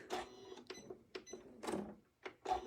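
A sewing machine has its bobbin pulled out during ruler-guided quilting, giving a series of sharp mechanical clicks and rattling bursts, about six in quick succession, close and fairly quiet.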